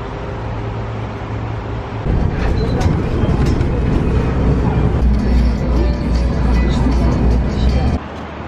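A bus rumbles along the road from Almaty toward Prosvetchenet village with a steady low engine drone. A louder stretch of engine and road noise runs through the middle, then the sound drops away at the end.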